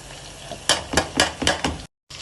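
Powdered spices, including ginger, cardamom, cumin, black pepper and turmeric, frying in a pot for chicken majboos: a steady sizzle with several short bursts of stirring scrapes, then a brief gap of silence.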